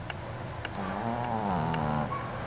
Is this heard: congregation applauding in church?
no